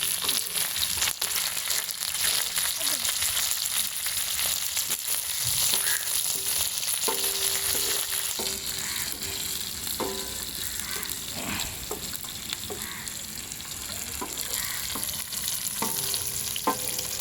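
Goat intestine and other ingredients for a kudal varuval fry sizzle steadily in a pan, with repeated stirring scrapes and clinks at a regular rhythm over a continuous bed of frying hiss; no voices.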